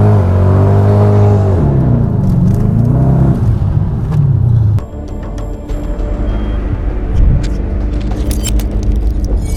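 A powerful V8 engine of a Hennessey-tuned Dodge Challenger SRT-8 revs hard with rising and falling pitch, then settles into a lower rumble with some clicks and whirring.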